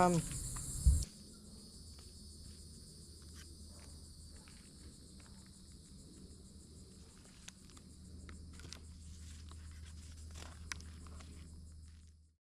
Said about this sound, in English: there's a ton of cicada noise